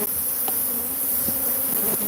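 A large swarm of bees buzzes loudly and steadily up close, a dense continuous drone with a few individual insects passing, and no talk over it.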